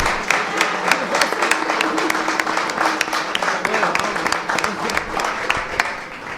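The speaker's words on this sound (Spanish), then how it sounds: "capaz que para alentarla la aplaudimos ahora" Crowd applause for a speaker at a street gathering, moderate and continuous with distinct individual claps, with voices talking underneath throughout.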